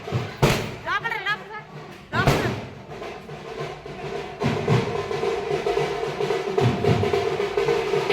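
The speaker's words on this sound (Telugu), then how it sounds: "చూడండి టపాసులు గోలా." Firecrackers burst at a village festival on its second day: a handful of sharp, loud bangs spaced a few seconds apart, heard over steady crowd noise and people talking.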